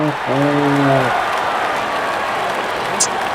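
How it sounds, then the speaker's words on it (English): Dense crowd roar and applause in a T20 India vs Pakistan cricket video game after a wicket, steady and wide, with a commentator's voice speaking over the start. "And there comes the celebration and the crowd loves it."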